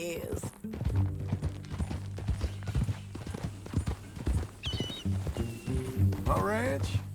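Horse hooves clip-clop steadily in Red Dead Redemption II, a rhythmic walking gait under game music and ambient sound, with a brief whinny-like rise near the end.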